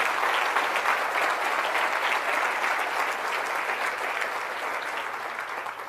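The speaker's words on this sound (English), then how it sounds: "Please give them a round of applause." A large audience applauds after a Defense Department official's keynote at a Military Child Education Coalition gathering, a thick, continuous wash of clapping that holds steady and fades slightly toward the end, with no voices on top.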